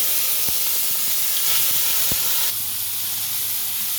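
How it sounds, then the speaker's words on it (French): Frozen vegetables fry in a pan for vegetable fried rice with tofu, giving a loud, steady hissing sizzle with a few small pops, close and continuous, without speech. "Je laisse les légumes surgelés à frire."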